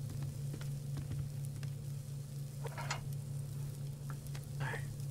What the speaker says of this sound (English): Let's cook up copper.